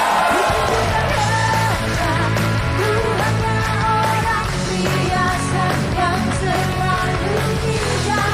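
Guests on an Indonesian TV variety talk show stage yell loudly and repeatedly in rough, shouting bursts over a busy, dense background that stays loud throughout.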